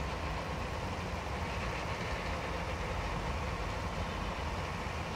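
A tractor engine idles in the video game Farming Simulator 22, a steady, loud, continuous drone with a constant broadband rumble and no pauses or speech.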